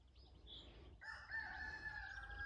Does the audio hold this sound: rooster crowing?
yes